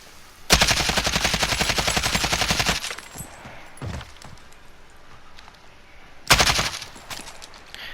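Close, loud burst of sustained automatic fire from an AK74 rifle in the Modern Warfare video game, lasting about two seconds, followed by quieter clatter and then a second short burst.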